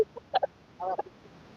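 A few short clucks from tiger chickens at a poultry market, close and fairly loud, in two brief bursts separated by quiet.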